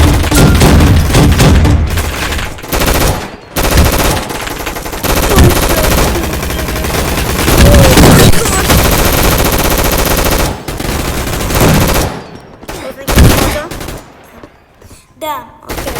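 Rapid automatic gunfire rattles in long loud bursts during a Gun Fight Arena match, broken by short pauses and thinner shots toward the end.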